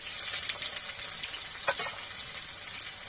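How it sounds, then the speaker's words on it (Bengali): Onions sizzle softly in mustard oil in a wok, a faint steady crackle with a few small spits and no voices. "কড়াইয়ে আর কিছুটা সর্ষের তেল দিয়ে দিচ্ছি এবার এর মধ্যে পেঁয়াজটা দিয়ে দিচ্ছি"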